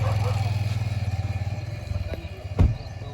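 A motorcycle idles close by with a rapid, regular engine pulse, then a clunk and a short rev near the end.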